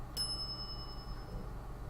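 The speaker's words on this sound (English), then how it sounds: "some idiot's already ringing that stupid bell" A service bell on a shop counter in the game The Secret of Monkey Island gives a single bright ding near the start, its metallic ring lingering faintly over low background hum.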